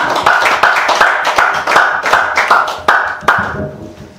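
Rhythmic clapping welcoming a guest lecturer at a Korean special lecture, loud and close, with roughly eleven strong sharp beats in an even pulse over a lighter scattering of claps, tapering off at the end.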